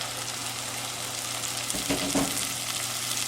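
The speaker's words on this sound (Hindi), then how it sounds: "जो हमने दाल बॉईल की थी वो अब हम इसमें डाल देंगे" Boiled mash dal is tipped into sizzling masala with crushed cumin and salt and stirred in. A steady, close frying hiss runs throughout, with a brief louder burst of wet sizzling and stirring near the middle. No one speaks.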